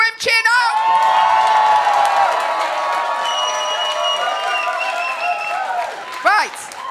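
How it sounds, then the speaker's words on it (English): Online game-show players cheer and whoop on cue over a call, several raised voices blending into a loud, sustained burst for about six seconds before a final short shout. "if you wanted to win, cheer now"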